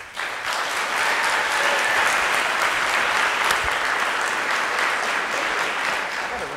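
A room full of people clapping for the prop assistants at a fast pitch event, a broad, sustained burst of applause that swells in and stays even throughout, no talk over it.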